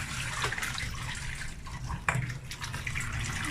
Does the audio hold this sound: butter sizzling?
no